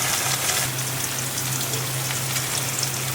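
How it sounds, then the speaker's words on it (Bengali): Taro and shrimp frying in a pan, a dense, steady sizzle close by and loud, with a faint low hum running under it. "এখন আস্তে আস্তে করে ভাজি করে নিতে হবে।"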